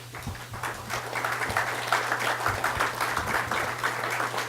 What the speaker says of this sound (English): I'd just like to ask you guys to keep clapping for all of the candidates